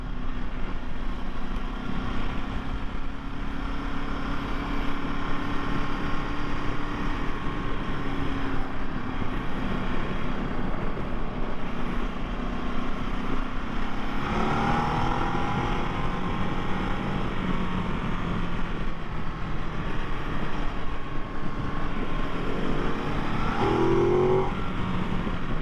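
A 2023 Ducati DesertX motorcycle is ridden along the road, its engine droning steadily and loudly with rising and falling pitch as the rider shifts through gears, along with constant wind noise.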